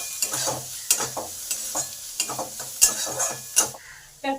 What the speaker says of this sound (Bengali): এবার কিছুটা পেঁয়াজ ভেজে নিই